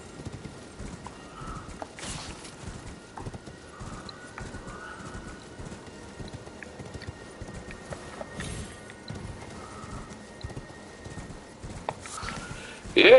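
Hooves of a horse-goat mount galloping steadily in the video game Elden Ring, a continuous soft clip-clop rhythm at moderate distance, with faint ambient game sounds and no speech.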